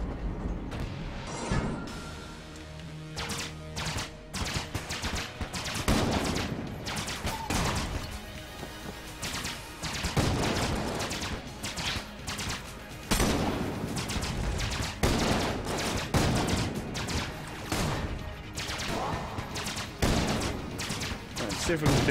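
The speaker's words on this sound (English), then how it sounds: "Void Core Assault Rifle. Rapid fire." Rapid bursts of automatic fire from the Void Core Assault Rifle in the video game Enter the Gungeon, dense and loud for the whole stretch, with crashing impacts layered over continuous game sound.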